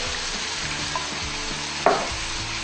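Soy sauce and vinegar stirred in a cooking pan over the heat, a steady soft sizzle with a light scrape and one sharp utensil clink against the pan, close and with no one talking.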